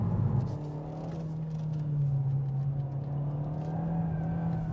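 A 2019 Hyundai Veloster with a 1.6 turbo engine accelerating on a track, a steady droning engine hum that holds and slowly rises in pitch, heard from inside the car with no talking.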